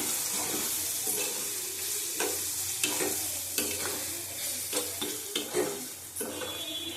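Spices with Kashmiri chili powder sautéing in a pan: a constant sizzle under repeated crisp scraping stir strokes, irregular and close, growing busier midway.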